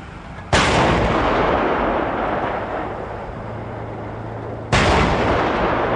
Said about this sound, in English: The next firing is from a moving combat vehicle with the 40mm TPDST round against two 40mm armor plates.